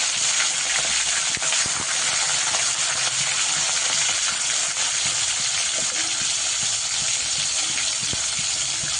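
Shrimp dropped into hot oil fry with a loud, continuous crackling sizzle that fills the whole stretch, with small pops and clinks scattered through it and no talking.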